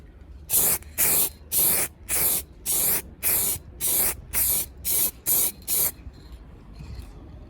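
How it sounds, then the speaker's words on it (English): Aerosol can of red spray paint sputtering out lumpy paint through a poor nozzle, during a Honda CB125F motorcycle rebuild: eleven loud, close bursts of hiss in a steady rhythm, each about a third of a second, then quiet. "So it's spitting out big red lumps of paint"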